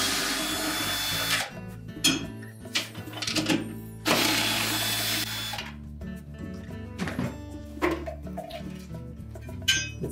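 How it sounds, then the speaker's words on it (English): A power tool spins off the four 3/8 nuts holding the blower motor on a Whirlpool range exhaust vent, in several loud, short whirring bursts separated by brief pauses and small clanks of metal. "Let's remove the four 3/8 nuts."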